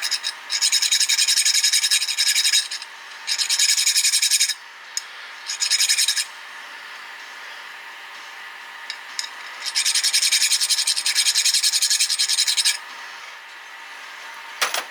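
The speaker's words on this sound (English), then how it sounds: "So we'll just take and file off that burr." A metal file rasps a burr off a part from a Kawasaki KLT110 engine in several close, loud bursts of strokes separated by brief pauses, with no talking.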